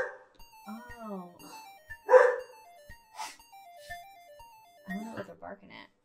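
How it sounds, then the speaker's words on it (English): Dogs barking in short bursts at moderate distance, mixed with people talking nearby throughout. "don't know what they're barking at."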